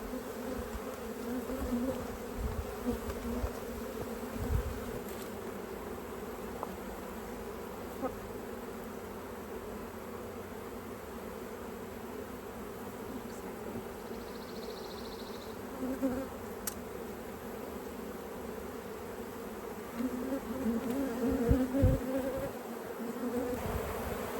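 Honey bees buzz continuously around an open hive in an apiary during requeening, a dense steady drone that swells slightly near the end, with no talking.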